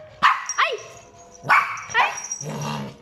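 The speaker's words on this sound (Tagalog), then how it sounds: "Galit na yung aso." A dog barks several times in short, sharp bursts close by, with a whiny, yipping edge between the louder barks.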